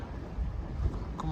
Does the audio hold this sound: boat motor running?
yes